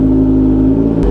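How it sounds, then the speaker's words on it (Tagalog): A Kawasaki Ninja ZH2 motorcycle engine idles loudly and roughly up close after a cold start, a steady low throbbing rumble, with a brief click near the end. "Cold start, ah."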